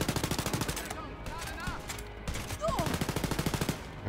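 Rapid automatic gunfire in the shooter game Wolfenstein: Youngblood, loud and close, with a steady rattling burst at the start and another long burst at the end, separated by a brief lull of scattered game effects.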